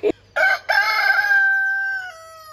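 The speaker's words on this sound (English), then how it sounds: "there's cockerels and chickens running around everywhere" Farmyard cockerels and chickens at a country pub, with a close, loud rooster crowing in one long drawn-out call after a brief opening cluck, ringing out alone with no talk.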